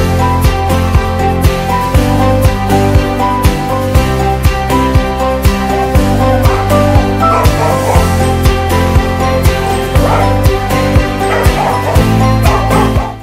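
A dog barks repeatedly in quick, loud bursts, with yips and whimpers mixed in over a steady musical backing.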